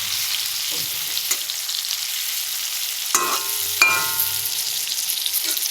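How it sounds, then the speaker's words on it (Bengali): Eggplant pieces frying in a pan, giving a soft continuous sizzle broken by a few sharp clinks and scrapes of a spatula, close-up and fairly quiet with no voices. "ওই জন্য একটু বেগুনটা ভেজে তুলে রাখবো, তারপর আলুটাকে কষাবো।"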